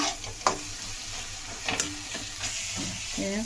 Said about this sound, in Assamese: মিডিয়াম জুই কৰি মই ইয়াত ভাজি আছোঁ মছলাখিনি ভালকৈ।